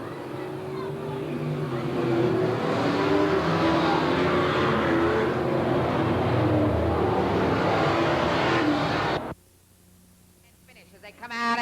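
Race cars roaring around the oval at Willamette Speedway during a 1989 P.O.S.S.E. race, a loud continuous engine drone from the pack with a voice over it, dropping away abruptly near the end.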